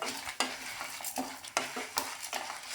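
Sesame seeds for idli podi being stirred and dry-roasted in a pan, giving close, loud, hissy scraping strokes that repeat in an uneven rhythm roughly every half second over a faint sizzle, with no voices.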